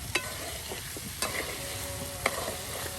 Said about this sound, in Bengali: এই দেখুন কত সুন্দর করে মশলা একদম ভাজা ভাজা করে কষিয়ে নেওয়া হচ্ছে।